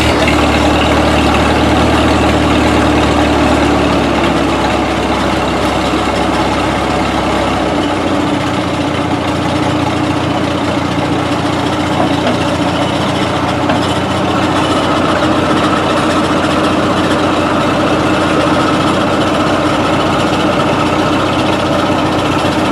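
An antique tractor engine at an outdoor tractor show fires up and settles into a steady, loud idle with a deep low rumble that shifts partway through, continuing alone without talk.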